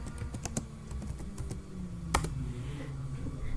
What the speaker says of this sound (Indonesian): kita bisa ketik show run.